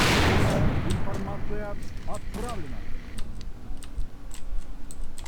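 Gunfire in the AVA shooter game, a few sharp crisp shots standing out over keyboard clicks and background game noise, with a voice speaking briefly.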